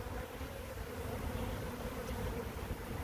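Honeybees buzzing around an open hive on a sunny, warm day during an inspection, a steady dense hum that holds evenly throughout, fairly faint and with no one talking over it.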